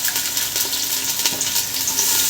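Sliced onions and green chillies fry in hot oil as the base for chicken biryani, a steady close sizzle with a faint stirring scrape and no talking.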